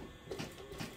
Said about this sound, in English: I just sew it on the top a little bit like this.